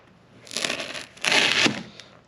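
A big knife slices through foam pool noodles while tip-up jugs are being made, giving two close, loud, crunchy crushing strokes about a second apart, with no talking.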